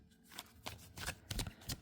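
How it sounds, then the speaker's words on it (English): A deck of tarot cards is shuffled up close in a series of quick riffling bursts with short pauses between them, soft papery flutters and taps in a quiet room, with no speech. "let's go ahead and start with just shuffling your cards"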